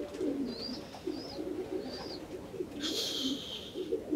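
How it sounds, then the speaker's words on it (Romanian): Racing pigeons coo softly in a loft, a low repeated burbling throughout with a few faint higher calls and a brief rustle near the end, no talking. "Cam ăștia sunt în mare parte porumbei"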